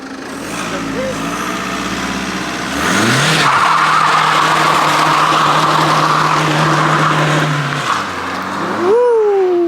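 Car tires squeal and skid with a loud, sustained screech over a revving engine, the pitch sliding and holding for several seconds before easing off; a voice is heard briefly.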